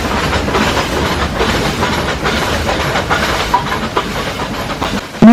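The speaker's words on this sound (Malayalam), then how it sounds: "നമ്മുടെ ഡ്യൂപ്ലിക്കേറ്റ് സുജിത് ഭക്തൻ നന്നായി ആസ്വദിക്കുന്നുണ്ട് ഈ ട്രെയിൻ യാത്ര" A Nilgiri mountain train travels from Mettupalayam to Ooty with a loud, continuous rumble and rhythmic wheel clatter heard close up from on board, without speech.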